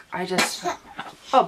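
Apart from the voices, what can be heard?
sneeze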